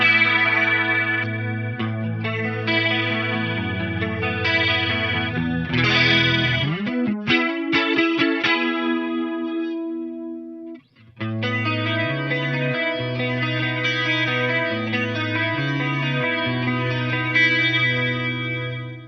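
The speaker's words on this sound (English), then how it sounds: "you're in the chorale mode, which sounds far more lush in my opinion." An Eventide H9 pedal runs its Tricerachorus algorithm in chorale mode on a sustained electric guitar, lush shimmering chords ringing for several seconds, a brief pause, then more wide, wavering chords.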